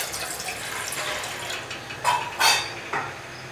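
Water poured from a glass into a pot for cardamom tea, a few short splashy bursts of liquid close by against a steady background hiss, with no talking.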